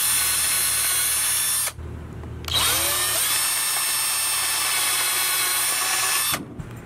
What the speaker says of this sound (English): Pilot holes for the screws.